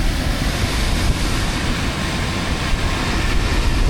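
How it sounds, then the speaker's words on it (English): A heat pump's reversing valve releasing pressure in a steady, loud broadband whoosh lasting several seconds, close by and with no talking. "I heard the pressure release when the reversing valve kicked in"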